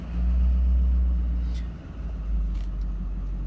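A Ford 6.7 diesel engine runs at full throttle while the vehicle is stationary, producing a loud, steady low rumble that dips briefly midway and then holds its deep drone.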